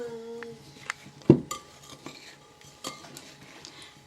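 A spoon stirs blueberries with flour and sugar in a mixing bowl, giving soft scraping and a few light clinks against the bowl, with one louder knock near the start. No one speaks.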